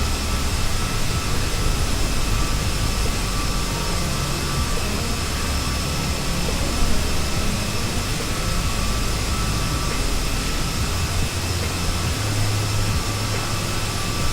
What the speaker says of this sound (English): Gear is coming out.